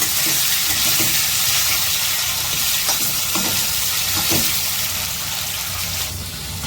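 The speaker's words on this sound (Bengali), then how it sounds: "এই আলু পেঁপেগুলো আমি ভালো করে ঢেকে ঢেকে ভেজে নিয়েছি" Potato and papaya pieces frying under a lid in a pan, a loud, continuous close sizzle with occasional soft knocks, no speech.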